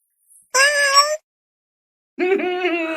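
A pet cat named Mr. Wobbles gives two loud, close meows, a short high one and then a longer, lower drawn-out one after a pause of silence.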